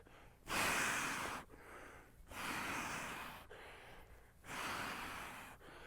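Three long, forceful exhales during mace swinging practice, close and breathy, evenly spaced with short quiet gaps between them and no speech.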